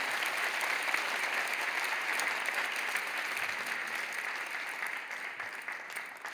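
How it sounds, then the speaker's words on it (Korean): Church audience at Kwanglim Church claps steadily at a Sunday school teacher award ceremony, a dense, even round of applause that stays strong and tapers slightly near the end. "돌아서 인사하실 때 크게 박수로 격려해 주시기를 바랍니다"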